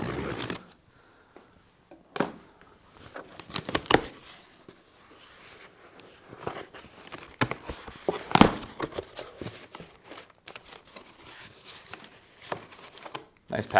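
A cardboard shipping box is cut open and its flaps and packing are handled, giving close scraping, crinkling and tearing noises in irregular bursts, with a few loud knocks and rustles.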